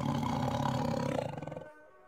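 A big cat's roar used as a tiger sound effect in a children's story, one long, loud, rumbling growl that swells and then fades away near the end.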